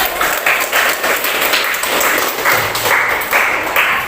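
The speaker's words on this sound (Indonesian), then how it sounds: "Beri aplaus dulu." A classroom of students claps in applause, a steady loud patter of many hands in uneven pulses lasting several seconds with no talking.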